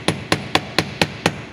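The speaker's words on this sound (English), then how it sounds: "hammer it a little all the way around with the hammer" Hammer strikes on metal wire resting on a steel bench block while flattening it into rectangular wire, six sharp, evenly spaced taps close by with no talking.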